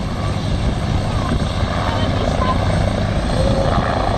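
Rescue helicopters at an air show give off a loud, steady rotor and engine drone that fills the whole stretch without a break.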